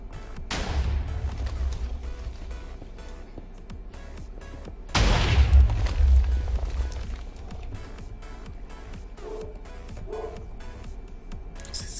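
Cannon blasts in a multiplayer video game match, two heavy booming bursts a few seconds apart over constant game noise and thudding.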